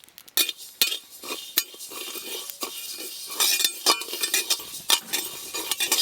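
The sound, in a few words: dry-roasting mustard, poppy seeds and cumin in a pan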